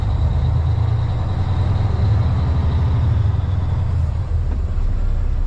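A tanker truck's engine runs steadily inside a shed, a loud, constant low diesel drone with no pauses or voices, holding near one pitch throughout.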